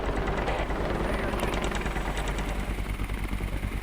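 An RCMP helicopter slowly approaching a river rescue team, a loud, steady rotor and engine roar filling the whole clip, with a voice speaking underneath.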